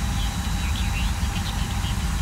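Airbus A320 engines from a flight simulator soundpack start up and give a steady low rumble and hum with a faint high whine above it, continuous and even throughout.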